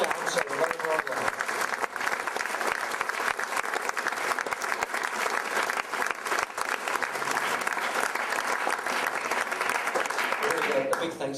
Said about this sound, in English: could you give Tim a very large round of applause, please, on the lights?